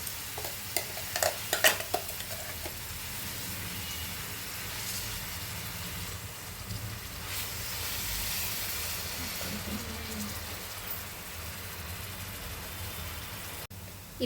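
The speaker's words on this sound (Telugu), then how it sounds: "సో అడగంటకుండా మనం మధ్యలో కలుపుతూ దీన్ని పచ్చి వాసన పోయేంత వరకు ఫ్రై చేసుకోవాలి." Grated carrots fry in a pan for carrot halwa, giving a steady soft sizzle and hiss that runs throughout, with a few clattering stirs near the start and occasional scraping as the mix is turned.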